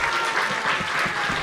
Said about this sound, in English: once again, a big round of applause for the junior Bhaktivedanta players